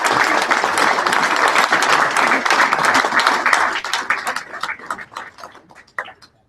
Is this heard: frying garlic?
no